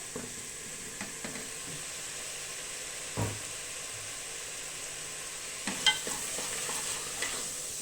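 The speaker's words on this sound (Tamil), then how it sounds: "திரும்பவும் இந்த தக்காளி கூட சேர்ந்து இந்த மட்டன் நல்லா வதக்கட்டும்" Mutton and tomatoes with green chili sauté in a pan for mutton kuzhambu, giving a faint, steady sizzle with occasional soft stirring scrapes and light knocks.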